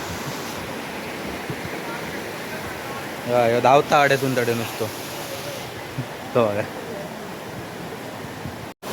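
A monsoon-season waterfall on a hillside trek pours down as a constant broadband rush, with a person talking briefly over the steady roar.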